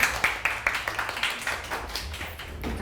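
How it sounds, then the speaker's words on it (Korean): An audience claps at a Korean talk by a hair salon owner, a run of distinct, evenly spaced claps that thicken into steadier applause before fading. "박수 부탁드리겠습니다"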